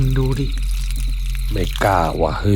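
Water splashes and pours close by, like someone bathing, while voices speak over it in hushed, tense tones.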